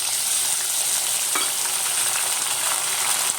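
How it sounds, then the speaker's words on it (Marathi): Finely chopped tomatoes dropped into hot oil with chili and curry leaves, an intense close hiss of frying that holds steady throughout, with a couple of brief stirring scrapes and no voices. "त्यानंतर आपण हे बारीक चिरलेले टोमॅटो टाकणार आहोत"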